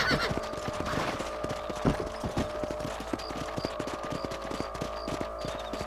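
Horses ridden over ranch ground in Red Dead Redemption, a run of crisp clip-clop hoofbeats near at hand with some jingling tack, and no talk.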